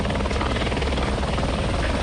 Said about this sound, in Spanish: se unió un helicóptero cisterna de Quito, de Aeropolicial, que se abastece del lago San Pablo y arroja agua en las faldas del Cotacachi